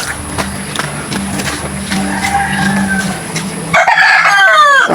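Roosters and a hen clucking and crowing during a morning or afternoon feeding, with a low steady background hum before sharper, louder fowl calls near the end.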